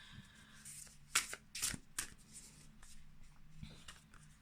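Tarot cards are shuffled and drawn in a quiet room, giving a few soft riffling bursts and papery flicks close by with no speech over them.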